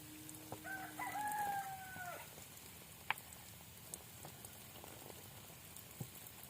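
Hens sitting out in the rain to guard their eggs, with one rooster crow rising early and a few sharp drips and taps over a soft, steady background hiss of rainfall.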